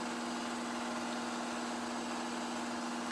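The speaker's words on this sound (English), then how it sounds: "Just letting this spool up and stabilize. Once this is stable on 1000 RPM, we can go to our high RPM rate setting." A Cessna Citation C525 jet engine spools up in a flight simulator, a steady, loud whine and hum with a constant low drone throughout and no voices.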